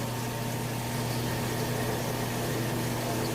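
An LG washer/dryer combo turning its drum in rinse mode gives a steady low hum and whir with a broad wash of noise, faint, continuous and unbroken.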